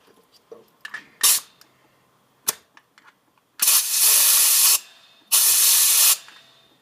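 An air compressor hose blasts moisture from a wet tank in sharp hissing bursts: several brief spits and clicks, then two long, loud sprays of about a second each, close up with no talking.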